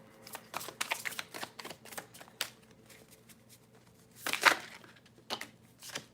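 A deck of tarot cards shuffled in a series of dry, papery riffles and flicks at close range, with a louder burst of shuffling near the end; no one speaks.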